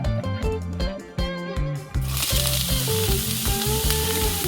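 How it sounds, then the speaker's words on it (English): Mushrooms fry in oil and a prepared sauce, hissing in a loud, continuous sizzle that flares up sharply partway through, with background music playing throughout. "Fry them with an oil and sauce that we made before."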